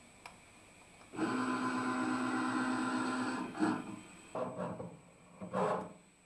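Schaublin 125 CNC lathe homing its axes: a steady mechanical whir of moving slides runs for about three seconds, then stops and restarts in two shorter bursts, fairly close and moderate in volume.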